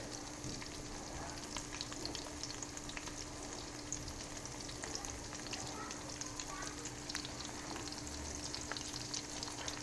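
Several chicken cutlets fry in a crowded pan over medium-half heat, a dense, even sizzle and spatter that stays constant and close throughout.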